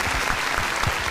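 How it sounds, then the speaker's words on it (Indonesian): Steady applause from a studio audience at a company Halal bi Halal broadcast, dense and continuous through the short moment with no talk over it. "Tepuk tangan dong buat Ensafal TV."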